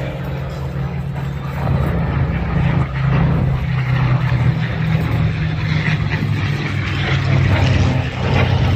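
Spitfire Mark 14 with a Griffon 65 engine flying at the Duxford Battle of Britain airshow, a loud sustained propeller-engine drone with a low rumbling tone, steady throughout.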